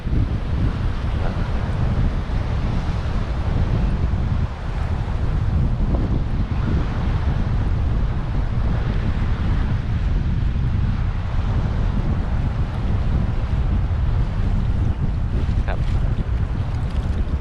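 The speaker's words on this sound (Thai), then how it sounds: "ทะเลอ่าวไทย" Wind and waves on the Gulf of Thailand coast near a pier produce a constant loud rumble and roar, with heavy wind buffeting the microphone throughout, a continuous noisy wash with no clear breaks.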